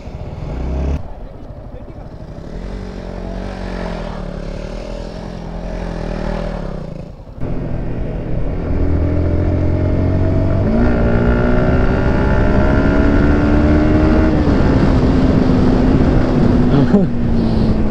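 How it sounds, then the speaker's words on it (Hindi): A motorcycle on bald tires revs and slides through mud on a rough, potholed patch, its engine note climbing and falling in long continuous sweeps, loud and close throughout. "एक तो भाई टायर पूरे गंजे हैं और ऊपर से मिट्टी में बाइक ले आए हम।"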